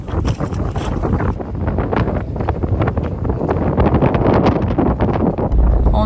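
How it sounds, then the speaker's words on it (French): Strong wind of about 40 knots roars across the microphone aboard a sailboat, a loud, continuous buffeting rush with no pauses. "il y a vraiment beaucoup de vent"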